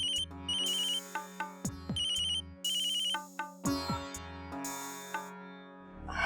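An electronic phone ringtone plays a bright repeating melodic pattern of beeps and tones for an incoming call, clear and close for several seconds with no voices over it.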